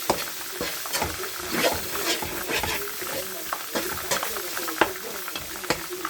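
Garam masala stirred into mutton biryani in a pot, with scraping and clacking of a spoon against metal over a low sizzle, in uneven repeated strokes close by.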